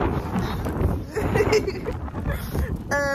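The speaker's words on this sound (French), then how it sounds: "Oh, il y a grave du vent." Strong wind buffets a microphone outdoors, a steady low roaring rumble that runs the whole time beneath people talking, with a brief tonal sound near the end.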